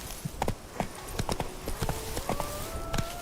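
Roach the horse trots in The Witcher 3 video game, hooves clip-clopping in a quick, regular rhythm close by, with a faint rising tone in the background and no talk.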